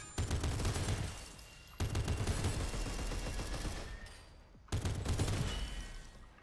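Turrets in the shooter game SYNTHETIK 2 firing loud sustained volleys of rapid gunfire, in three dense bursts with brief gaps between them, with no talking.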